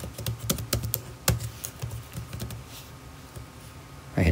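Keys clatter on a computer keyboard as a Wi-Fi password is typed during controller setup for xLights and WLED, a quick irregular run of close taps with brief pauses.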